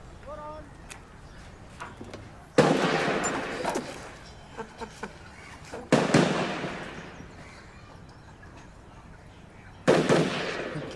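Gunfire from a nearby firing range bursts out in three loud, sharp volleys that decay over a few seconds each, with fainter scattered pops between them in an outdoor setting.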